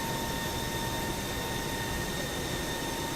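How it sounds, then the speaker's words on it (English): A departing airplane in a flight simulator game gives off a steady, broadband jet roar with a faint high whine, loud and unbroken for a few seconds. "we got a plane over there that's heading out"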